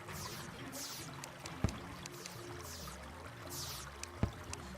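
Water pumps in the video game Terraria pour out water as a steady, soft rushing stream with faint periodic swells. A couple of sharp clicks stand out over it, and no one speaks.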